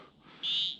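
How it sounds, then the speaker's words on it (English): A single frog near a creek lets out a short, high, trilling call, brief and fairly close against a quiet outdoor evening background. "Listen to the frogs."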